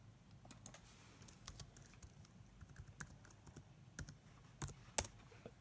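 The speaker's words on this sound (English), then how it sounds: "Let's type in artwork." A computer keyboard being typed on in quiet, irregular bursts of soft key clicks, close and faint, with a few sharper taps near the end and no talking.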